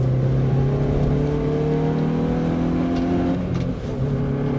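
Hyundai i20N hot hatch with worn front tyres and a mechanical differential, accelerating hard out of corners: a loud, continuous engine drone with steady rising harmonics, a brief dip in tone near the end, no talking.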